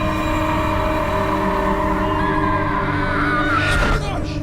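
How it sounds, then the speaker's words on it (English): A sustained human scream in a film that morphs into the roaring, tonal rumble of a train, dense low harmonics building to a louder burst near the end. "screams turning to the sound of trains"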